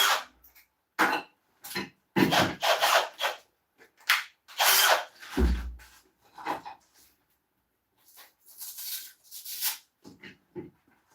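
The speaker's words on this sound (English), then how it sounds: "Let's get this thing sanded up." Sandpaper rubs against an ash wood bowl spinning on a lathe, coming as loud, close, rasping bursts separated by short quiet gaps, with a brief low motor rumble partway through.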